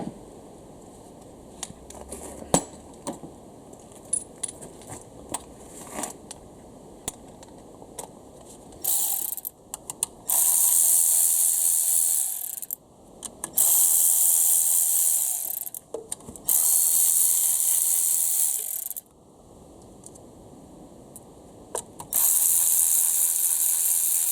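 A ratchet works on the distributor bolts of a Honda Civic EF's B18 engine with fast clicking turns, first sparse and light, then in several longer loud bursts separated by pauses, with no talking.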